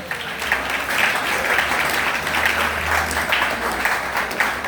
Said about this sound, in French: Est-ce qu'on peut avoir applaudi pour ce message?